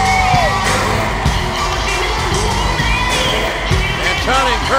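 A sold-out wrestling arena crowd in Cincinnati roars and cheers at a 2001 WWF Raw show, dense continuous crowd noise with scattered yells and whoops, loud and sustained throughout.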